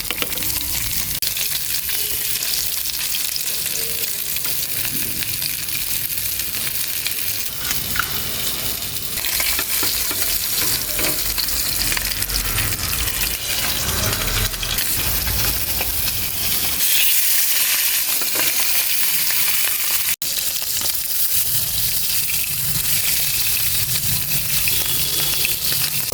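Fish fries in hot oil in a home kitchen, a steady crackling sizzle with occasional stirring and scraping, close and fairly quiet, running continuously with brief dips.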